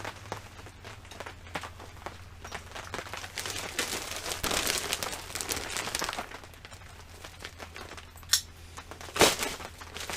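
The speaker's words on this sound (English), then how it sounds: "Let me open my bag." A plastic bag for a Puig aftermarket windscreen for a BMW K1200R Sport motorcycle is opened up close, giving continuous crinkling and rustling with a couple of sharper crackles toward the end.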